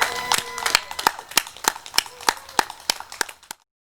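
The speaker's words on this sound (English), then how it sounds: "How about a round of applause, please?" Light applause for a graduate at a 2020 high school graduation ceremony, with a modest number of separate, sharp claps in a loose rhythm that stop abruptly into silence.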